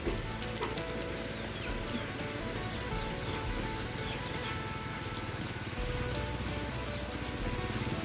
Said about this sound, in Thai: ฝนตกแจ๊ดแจ๊ด